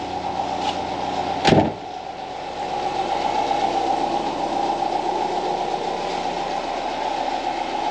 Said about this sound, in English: the engine sounds good. Nice and smooth.